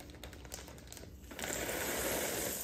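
Pumpkin seeds are tipped from a folded sheet into a bag, first as a run of small rattling clicks, then as a denser, steady rushing pour, close and quiet.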